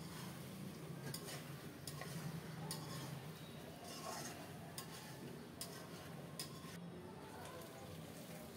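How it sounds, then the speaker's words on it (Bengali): Fried potatoes and papaya being stirred into cooked, oil-glazed chicken in a pan, with a steady low sizzle of frying under soft scraping and clinks of the spoon against the pan, close and fairly quiet throughout. "এখন দিয়ে দেব ভেজে রাখা আলু আর পেঁপে"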